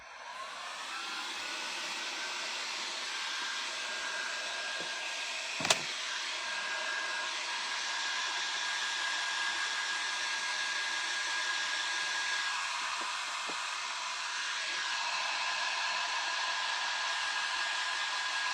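A hair dryer blows steadily to dry paint on small craft pieces, a close, continuous airy whine at constant strength with one brief knock partway through.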